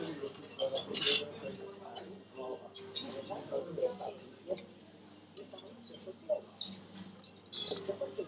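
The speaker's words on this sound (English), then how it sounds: "This chuletón. Let's cut into it." A knife and fork cutting into a chuletón steak on a plate at a Portuguese restaurant, with scattered close clinks and scrapes of cutlery on the plate, mixed with voices talking.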